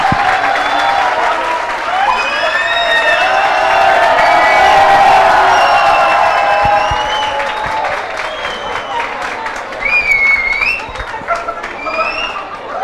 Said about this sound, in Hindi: तालियां बजनी चाहिए बहुत ज्यादा।